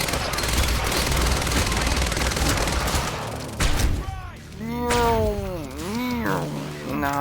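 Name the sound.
shotgun gunfire in the video game Quantum Break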